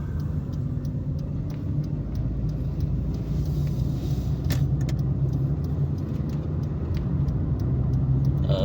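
Cars driving along a main road in Penampang at night, a steady close rumble of engine and tyre noise from a passing stream of traffic, continuous and loud with no talk.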